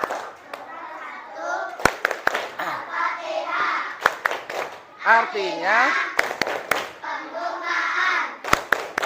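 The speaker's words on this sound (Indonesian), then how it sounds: "Yuk tepuk Al-Fatihah." A class of young children claps a steady rhythm with sharp, regular hand claps, set under loud group chanting and a leading adult voice in a primary school lesson on Al-Fatihah.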